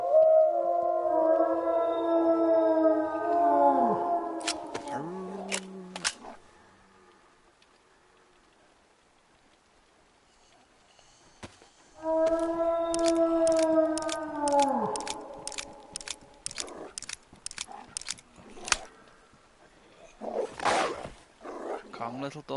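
Dogs in the video game DayZ let out long, wavering howls and growls in two loud bursts with a quiet gap between them, followed by sharp crackling hits and rough bursts near the end.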